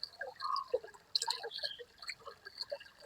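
Water filled into a container for watering vegetable plants, heard as faint, sparse trickles and drips, quiet and close.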